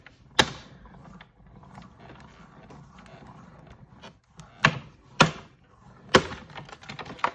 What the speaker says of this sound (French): j'ai plus qu'à tourner la manivelle